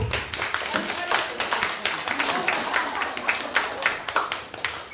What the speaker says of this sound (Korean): 어머님 박수.